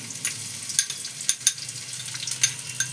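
Chopped onion dropped into hot oil for a spicy raw boal fish curry, crackling and sizzling steadily with sharp spitting pops, close by and fairly loud, with no talk over it.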